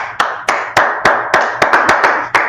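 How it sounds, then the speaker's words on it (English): Clapping at a religious language class, heard as about nine sharp, separate claps in a loose, uneven rhythm, close and fairly loud, with no talking over them. "Let's clap it up."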